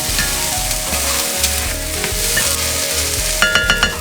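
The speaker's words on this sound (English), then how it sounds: "So we're just gonna stir this around again." Sautéed zucchini pasta stirred in a hot pan, a continuous loud sizzle with low rumbling scrapes of the utensil and a few bright clinks near the end.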